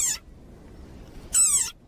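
A desert rain frog gives two short, high squeaks, one at the very start and one near the end, separated by near silence.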